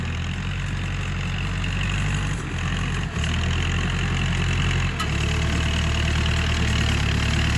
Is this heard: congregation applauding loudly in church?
no